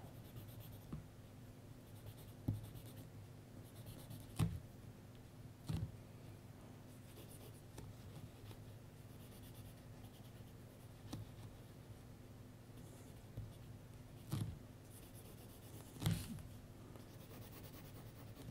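Graphite pencil sketching on paper, a soft continuous scratching of strokes with occasional sharper taps, close and quiet throughout.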